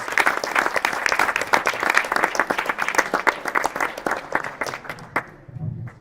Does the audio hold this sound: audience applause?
yes